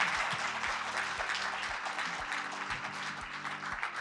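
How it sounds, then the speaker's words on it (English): An audience claps steadily in sustained applause, a dense patter of many hands heard from within the room. "round of applause for our panelists and our moderator."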